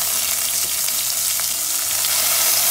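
Chopped onion frying in a pan for nightshade leaf soup, a loud, close, continuous sizzle with faint stirring scrapes and no talking.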